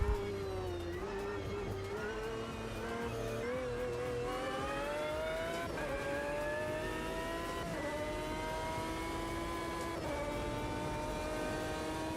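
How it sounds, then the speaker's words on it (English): A loud car engine in a video game, heard as a continuous droning roar that rises in pitch through repeated revs and gear changes, steady and close throughout with no talk. "This car's well loud."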